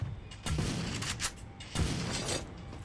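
Gunfire from a shooting video game, with two loud bursts of shots about a second apart that stand out against a busy background of game noise.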